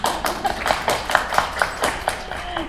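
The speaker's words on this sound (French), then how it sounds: "c'est à mon tour de vous applaudir." Scattered clapping from a small audience at a conference-debate launch event, a handful of distinct, fairly close hand claps spread unevenly over a few seconds rather than a full ovation.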